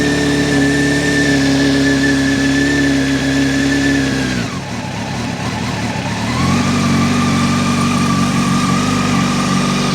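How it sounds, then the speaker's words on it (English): A Honda 919 Hornet motorcycle runs on its stock exhaust, a loud, close, steady idle with a high whine. The engine dips briefly midway, then settles back into an even idle. "So let's turn this bike on and let you guys hear it a little bit with that stock exhaust."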